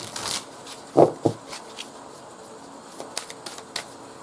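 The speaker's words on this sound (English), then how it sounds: "I'm going to pluck a few cards" Playing cards handled and drawn from a deck during a tarot-style reading, with soft riffling and shuffling near the start, two sharper snaps around the one-second mark, then lighter scattered card taps and slides, close and quiet with no talking.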